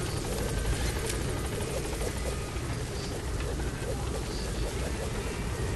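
A helicopter in the video game Metal Gear Solid V: The Phantom Pain, a steady loud rotor thrum and engine roar that stays constant and close throughout.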